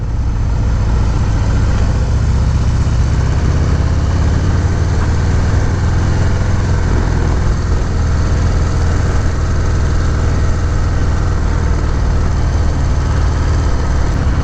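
A 2019 Harley-Davidson FXDR 114 power cruiser with a Milwaukee-Eight 114 engine and balanced countershaft, heard while riding as a loud, steady, unbroken engine drone mixed with road and wind noise.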